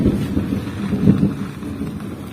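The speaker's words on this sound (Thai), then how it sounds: "โอ้โหฟ้าฝน" A low rumble of thunder with rain and wind noise, mostly deep and steady, swelling slightly near the middle and fading toward the end.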